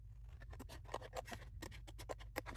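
Scissors snipping paper along a raised fold line, a quick series of crisp, rhythmic cuts, close and alone.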